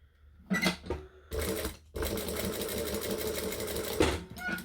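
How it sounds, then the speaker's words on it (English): A sewing machine stitches a handbag in short close-up bursts of rapid mechanical clatter, with a couple of brief runs followed by one longer steady run. "I'm going to stitch up the same lines as before to essentially make it invisible stitching"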